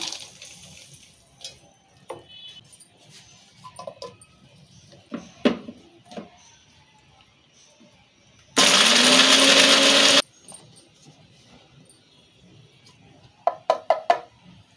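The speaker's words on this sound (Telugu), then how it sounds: "ఇప్పుడు ఇవి మిక్సీ చేసుకున్నాము" A mixer grinder roars loudly for under two seconds while grinding a masala paste, then stops; quiet kitchen clinks and scattered taps surround the burst.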